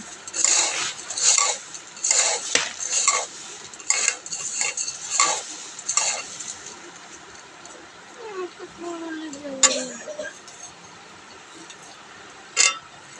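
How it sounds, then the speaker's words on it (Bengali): Puffed rice being mixed with onion and chanachur in a metal bowl, with repeated scraping and clinking of a spoon in a steady rhythm, close by, and a few people talking. "অল্প করেই পেঁয়াজ দিয়েছি বন্ধুরা, আর একটু চানাচুর দিয়ে মেখে দেবো।"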